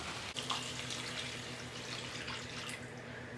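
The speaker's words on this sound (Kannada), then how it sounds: "ಇವಾಗ ನೀರನ್ನು ಆ್ಯಡ್ ಮಾಡ್ಕೊಬೇಕು ಇದಕ್ಕೆ" Water pours steadily into a pot for a simple egg curry, about half a glass. It makes a continuous, close rushing splash with a brief knock near the start.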